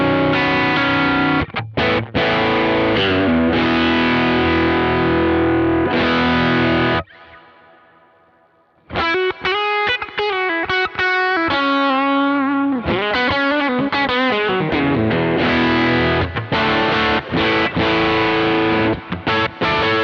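Electric guitar played through a Kemper Profiler Stage with a vintage Marshall amp profile gives loud, driven chords and riffs with a short quiet break in the middle, then dense distorted playing resumes.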